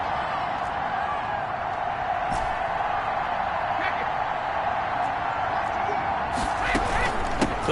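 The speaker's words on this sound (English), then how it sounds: "Listen to this crowd now." In a PS4 American football video game, a stadium crowd gives off a continuous dense roar that swells slightly near the end, with faint sharp accents and possible voices mixed in.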